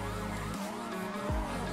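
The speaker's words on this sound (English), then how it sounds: "I'm in a police car." A police car siren in the video game GTA 5 wails in sweeping rising and falling tones, fairly faint, with a short skidding swoop near the end.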